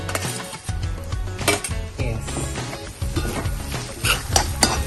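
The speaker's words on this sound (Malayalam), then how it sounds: "അതിലേക്ക് നമ്മൾ ടൊമാറ്റോ ഇടും. ഈ ടൊമാറ്റോ ഒന്ന് വഴണ്ട് വരട്ടെ." Tomatoes and green chillies sauté in a pan with onions for a prawn curry, a continuous sizzle broken by repeated stirring scrapes and clinks of a spoon against the pan.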